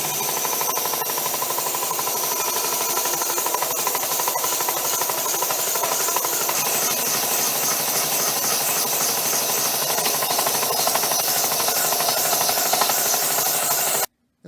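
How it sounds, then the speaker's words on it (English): A belt sander grinds steadily against a wooden club, smoothing uneven surfaces with a loud, harsh, continuous abrasive whir up close that stops abruptly at the end. "use a belt sander to sand down any uneven surfaces so it looks nice and smooth"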